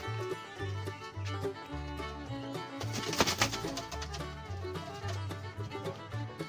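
Adult pigeons for sale at a dealer's lofts in Uluberia coo softly and flap their wings nearby, with a brief louder flurry of wingbeats midway.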